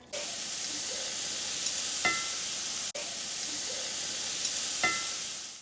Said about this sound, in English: that sound of chicken sizzling on a pan makes me so hungry